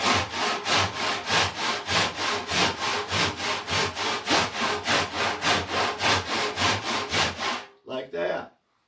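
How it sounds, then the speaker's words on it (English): A handsaw cuts through wood in steady back-and-forth strokes, about two per second, loud and close, before stopping near the end. "I successfully was able to saw this with this handsaw"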